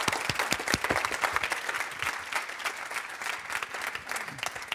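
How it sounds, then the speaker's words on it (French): A congress audience claps for an organiser, dense, continuous applause with some close, crisp hand claps standing out in a large room. "je vous propose de l'applaudir"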